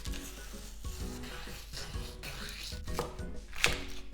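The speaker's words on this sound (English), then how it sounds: "Then next we're gonna cut up the scallion." A knife chops scallion on a cutting board, giving a series of sharp, close taps at an irregular, fairly quick pace over a steady low hum.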